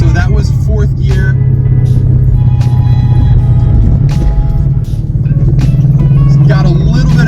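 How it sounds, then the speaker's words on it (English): Car engine with a BAMA 93 race tune droning steadily under load, a brief dip around the 3rd gear downshift where it hesitates, then resumes its hum; loud and close, with a voice talking over it. "Got a little bit of hesitation there on that 3rd gear downshift."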